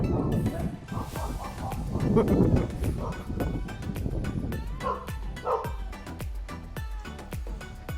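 A dog barks several times at mid distance along a riverside bicycle path, the sharp yips standing out over wind noise on the microphone while people talk.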